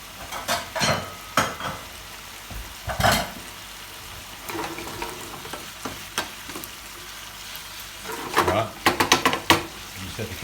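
A beef stir-fry with cashews and shallots sizzles in a hot pan, broken by irregular scraping and clattering bursts as the food is tossed and stirred.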